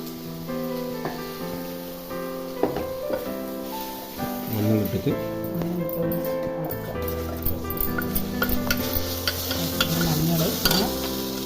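Sliced onion sautés in a pan for tea-shop-style crispy bonda, with the spoon scraping and stirring through a soft sizzle, close by, under background music and some talking.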